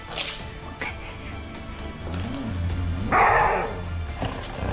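Malamute dogs bark and growl at a bag that seems to move on its own, close and loud, with short gruff barks and low growls in an indoor room.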